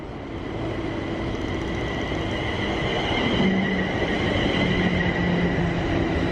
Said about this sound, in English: this is a stopping at all stations, roughly speaking, train